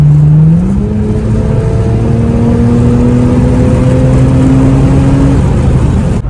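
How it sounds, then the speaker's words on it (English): A Lexus GS300 engine with an aftermarket intake roars steadily as it accelerates, with a rising whine and strong intake rumble, loud and continuous throughout with no talking. "You can hear the intake."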